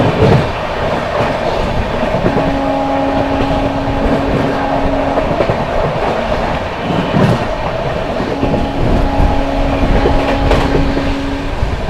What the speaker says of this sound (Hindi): चलिए अपनी वेस्ट बंगाल संपर्क क्रांति स्किप करने जा रही है मिर्ज़ापुर एंड ओवरटेक करेगी बरौनी गोंदिया एक्सप्रेस को।